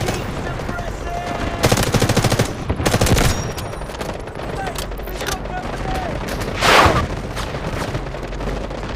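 Gunfire fills a large-scale 24-versus-24 battle in the video game Delta Force, with dense automatic bursts, rapid rattling volleys and a louder blast near the end, while voices shout over the combat.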